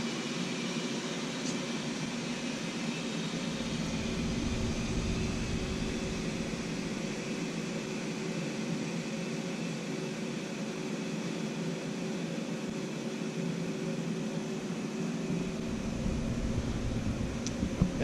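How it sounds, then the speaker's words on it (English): A vacuum pump draws air out of the sealed glue pot of a HOMAG XES 200 edgebander glue unit station, producing a steady mechanical whir and airy hiss that continues evenly at moderate level without speech. "So now I'm just going to remove the air with the vacuum."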